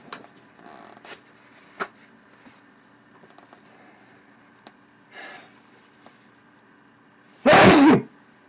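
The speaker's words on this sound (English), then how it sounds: "I'm going to sneeze." One loud, close sneeze bursts out near the end, preceded by quiet sniffs and small breaths during a live miniature-painting session.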